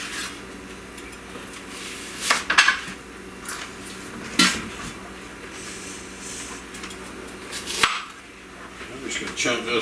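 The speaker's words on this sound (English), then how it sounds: "Just gonna chunk this onion up." A kitchen knife chops a white onion into chunks on a board, giving a few sharp, scattered knocks over a quiet room background.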